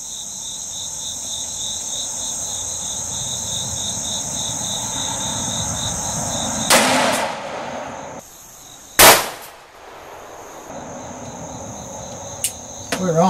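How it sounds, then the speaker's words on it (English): A 10mm Buffalo Bore handgun round fired at a level 3A body armor vest outdoors, heard as one sharp, loud report over a steady background of chirping crickets, with a second brief crack soon after. "First shot of the day."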